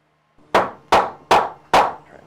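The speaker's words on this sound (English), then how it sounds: "Pry it as I hammer it in." Four sharp, evenly spaced hammer blows strike a wood sill plate over a basement bulkhead opening, loud and close with brief ringing after each hit.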